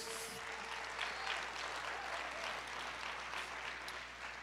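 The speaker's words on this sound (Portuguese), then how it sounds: "Aplauda o Senhor, glória a Deus." Church congregation applauding, a dense, steady wash of clapping heard from a distance that holds evenly throughout with a low hum beneath.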